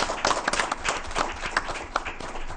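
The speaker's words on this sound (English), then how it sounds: "Let's give him a round of applause." A room of attendees at a school board meeting claps for the newly introduced board chairman, a steady burst of hand claps with a scattered, uneven rhythm and no talking over it.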